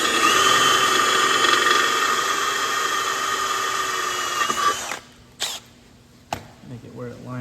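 A power drill whines loudly and steadily while boring a hole through a Jeep bumper for a light, then stops and gives a few short bursts.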